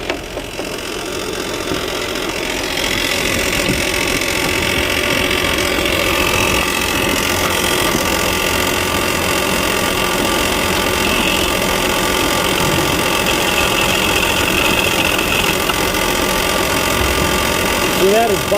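A car engine idles steadily with a continuous buzzing rattle from a worn, bottomed-out belt tensioner, loud and close, with a voice talking over it.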